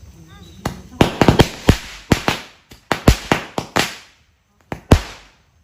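Small packets of firecrackers set off at home give a rapid series of sharp, loud, close cracks and pops in irregular clusters, followed by a pause and one or two final bangs.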